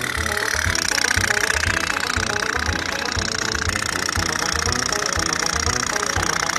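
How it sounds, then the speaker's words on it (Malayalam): Candle-powered putt-putt toy boat engine, a rapid, steady mechanical putting and rattling pulse that runs loudly and continuously throughout, close up and without speech. "ഇപ്പൊ നമ്മുടെ dub dub sound ഉണ്ടാക്കിയപ്പോൾ dub dub boat സംഭവം എങ്ങനെയുണ്ട്?"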